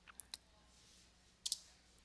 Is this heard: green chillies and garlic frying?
no